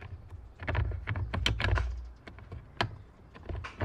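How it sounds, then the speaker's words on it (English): Plastic wiring connectors on a Jeep Wrangler JL being pushed and snapped into place during a battery replacement, a quick run of close, sharp clicks and knocks with handling rustle between them. "So these, you should hear them snap in."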